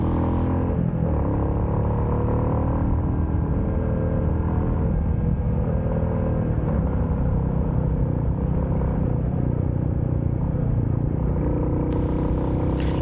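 A motorcycle, not a sport bike, carries a rider through a winding road on a trip near Ratchaburi; a steady, loud engine drone with wind rumble runs throughout without pause, and no one speaks.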